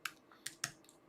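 Fingers tap on a computer keyboard, three or four crisp, separate keystrokes heard close and fairly quiet in a still room.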